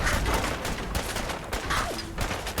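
Gunfire from Gunners in Fallout 4, a dense steady stream of rapid shots and game noise filling the whole moment without pause.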